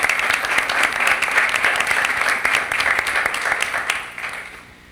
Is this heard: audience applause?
yes